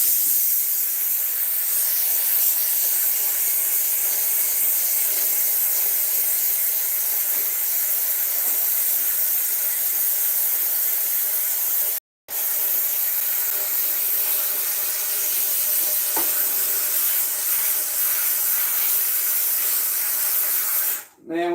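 A new handheld steamer with a narrow nozzle blasts a loud continuous hiss of steam, close by, during work on a Frigidaire refrigerator with a defrost problem. It breaks off briefly partway through and cuts out again near the end.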